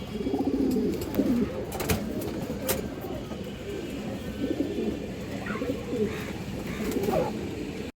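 Pigeons coo low and steady at a pigeon market in Bangladesh, a soft continuous murmur of birds with a few sharper calls and faint traffic behind, no talking.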